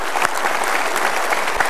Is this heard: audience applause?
yes